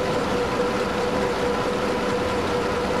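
A steady, unbroken rumble of a kilometre-long freight train rolling on rails in a transport simulation game, with a constant low drone and a faint tonal hum running throughout at an even loudness, no voices.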